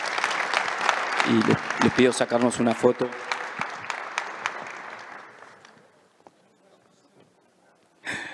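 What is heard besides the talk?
audience applause for the panelists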